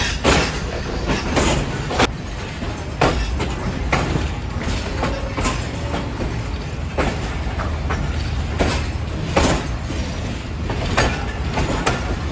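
A Pakistan Railways train runs on after leaving Rohri Junction, taking a left curve: a steady loud rolling rumble with repeated clickety-clack wheel beats and sharp joint knocks at intervals, heard from inside the carriage.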